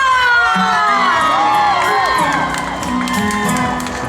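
Concert crowd for a singer at a Ghost Festival temple celebration in Zhongli, cheering, whooping and screaming continuously and loudly with high shrill voices, with sustained music tones under the crowd noise.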